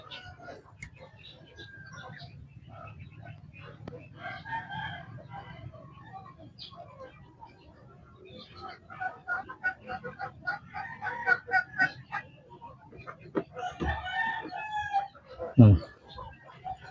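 Chickens cluck and murmur in a busy flock, growing louder toward the end, with a rooster-like call and people talking nearby.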